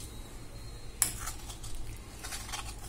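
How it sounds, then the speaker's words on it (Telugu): Milk with sugar stirred in a pot, a sharp metal clink of the spoon against the rim followed by soft scraping swirls, close and quiet over a low burner hum. "ఒకసారి కలుపుకుందాం."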